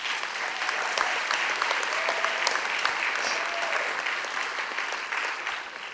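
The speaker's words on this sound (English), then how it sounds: "Give these people a round of applause that supported you" A high school graduation audience gives a sustained round of applause, dense even clapping from many hands that holds for several seconds and tapers slightly at the end.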